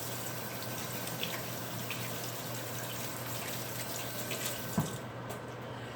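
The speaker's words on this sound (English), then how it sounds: "I'm going to rinse my hands off right quick." A kitchen tap runs steadily in a small apartment as hands are rinsed beneath it, giving a soft continuous hiss of water with faint splashes, fairly quiet and with no speech.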